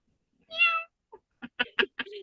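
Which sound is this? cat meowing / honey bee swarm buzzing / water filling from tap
cat meowing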